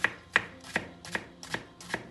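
A knife chops a whole onion on a cutting board in six steady, evenly spaced strokes, close and crisp, with no talking.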